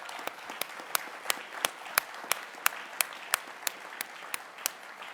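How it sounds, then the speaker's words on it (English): Sparse applause from a small audience at an annual governors summit, a few distinct claps repeating at a steady pace, fairly close and moderately quiet with no talk over it. "So let's give them a round of applause."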